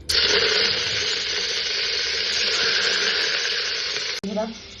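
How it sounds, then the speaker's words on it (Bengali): Cauliflower frying in hot oil for khichdi, a steady, loud broadband sizzle that holds for several seconds close up, with a brief clatter and a short break near the end. "তেল দিয়ে দিলাম আর গরমও হয়ে গেছে। ফুলকপিটা ভেজে নেবো ফার্স্ট।"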